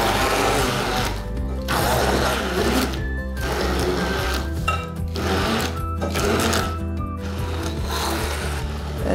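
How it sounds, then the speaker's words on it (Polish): Blender whirring continuously as it blends chocolate cream with cocoa, ground nuts and honey, a loud, close motor drone with brief pulsing dips in pitch as the mixture churns. "Blendujemy jeszcze chwilkę,"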